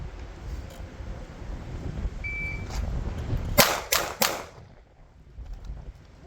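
Three sharp gunshots of sighted fire at a 7-yard target ring out in quick succession, loud and close, over a steady background rumble.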